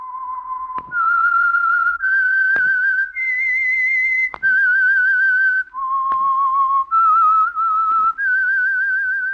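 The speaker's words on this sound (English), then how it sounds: "That whistle is your signal for the Signal Oil program, The Whistler." A melodic whistled tune, clear and close, moving through a short rising and falling phrase of sustained notes with brief pauses between them.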